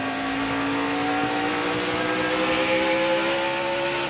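NASCAR trucks roaring around Bristol during the UNOH 200, a loud sustained engine drone with layered whining tones from several trucks at once, steady and close throughout, with no talk over it.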